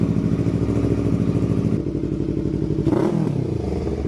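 A 180-degree parallel twin engine on a beginner sport motorcycle runs steadily at close range, with a throttle blip around the three-second mark before it settles back to its even idle.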